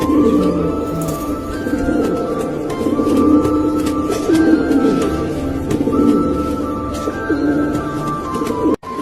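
Pigeons coo steadily in low, rolling calls that repeat throughout, close by and fairly loud, with a dense murmur of birds layered underneath and no talking.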